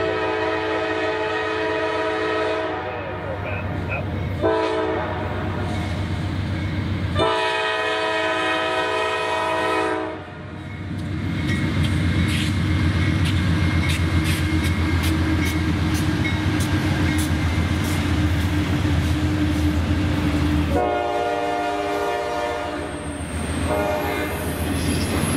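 Locomotive 9008 passes with a loud rumbling roll and wheel clatter, its horn sounding in several long blasts near the start and again toward the end, close by and without talk.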